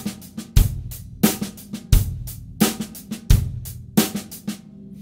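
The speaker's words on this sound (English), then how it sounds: "I will play with the accent on the downbeat and I will retain ghost notes on the" Funk-rock snare drum groove with loud accented hits landing on each downbeat, roughly every 0.7 seconds, each followed by pairs of soft ghost notes, played close and alone without talk.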